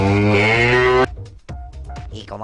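A cow gives one loud, close, drawn-out moo lasting about a second. Quieter, voice-like sounds follow after a short pause.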